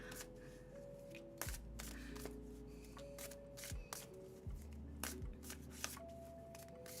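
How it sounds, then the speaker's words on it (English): A deck of oracle cards being shuffled, a steady run of riffling and slapping card noises up close, with sharper snaps scattered through and a low background hum underneath. "fell out of my deck as I'm shuffling these Oracle cards right now"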